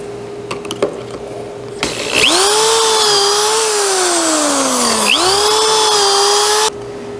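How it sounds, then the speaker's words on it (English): Drill boring pocket holes into a cabinet door frame held in a pocket-hole jig, two loud sustained whirring bursts that rise and sag in pitch as the bit bites, close by. "Next thing we have to do is put these pocket holes into the frame."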